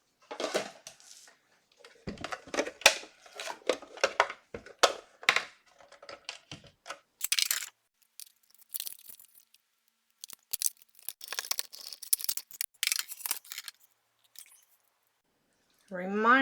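Paper snips cutting out card paper for handmade cards: a series of close, sharp crisp snips in irregular bursts with quiet pauses between them.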